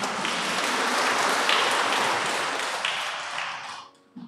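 Steady, dense applause from a crowd, sustained for several seconds before tapering off abruptly at the end.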